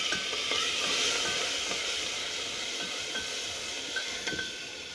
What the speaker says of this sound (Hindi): अब लगाएंगे तड़का।